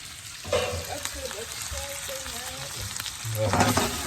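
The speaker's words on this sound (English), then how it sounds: "Oh, the garlic is getting charred." Garlic frying in a thin, fast-heating pan sizzles steadily with occasional stirring scrapes, with a person speaking quietly over the crackle.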